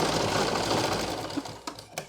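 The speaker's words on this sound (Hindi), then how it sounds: "अब यहाँ पे इतना सा सिलेंगे" A sewing machine stitches a short seam on salwar fabric, a steady mechanical whirr running loud for over a second, then fading into a few brief clicks and taps as the stitching stops.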